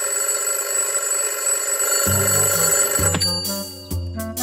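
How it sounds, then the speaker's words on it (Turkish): A cartoon alarm clock rings with a steady high beeping tone, then a deeper repeating tune joins in, loud and close, with no voices. "Pato alarmını kurmuş."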